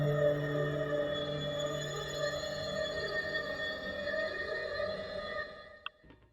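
Two synthesizers play together as a German pilot's cockpit theme, soft sustained tones with slowly shifting pitches, a wavering drone that fades and ends with a short blip.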